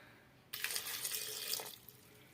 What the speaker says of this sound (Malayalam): ആവശ്യത്തിനുള്ള കുറച്ച് വെള്ളവും കൂടി ഒഴിച്ചു കൊടുക്കാം നമുക്ക്